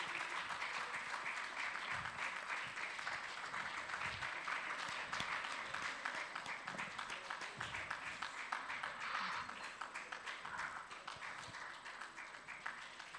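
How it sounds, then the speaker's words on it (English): Audience applause fills a law week event hall in Lagos, a dense, steady wash of many hands clapping at even loudness, easing slightly toward the end. "Please, a round of applause for him."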